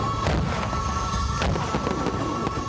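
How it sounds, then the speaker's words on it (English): Fireworks bursting over Port Moresby during early Papua New Guinea Independence Day celebrations, a steady crackle and rumble with several sharper bangs at intervals, dense and continuous rather than isolated. "The celebrations started early with fireworks over the capital."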